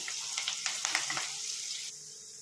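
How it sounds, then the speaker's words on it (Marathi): Curry leaves and finely chopped green chilies sautéing in a pan, a soft steady sizzle with brief crackling pops and stirring in the first half, quieter toward the end, no one speaking. "कढीपत्ता आणि जी आपण मिरची बारीक करून घेतलेली आहे ती टाकून घेऊया आणि याला छानपैकी आता परतून देऊया"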